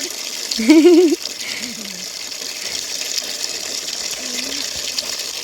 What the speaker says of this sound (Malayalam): അപ്പം നമ്മളിതാ തോട്ടിൽ നിന്നാണ് വെള്ളം ഇങ്ങോട്ട് ആക്കിയിരിക്കുന്നത് കേട്ടോ നനയ്ക്കാനും ചെറിയൊരു മോട്ടർ വെച്ചിട്ട്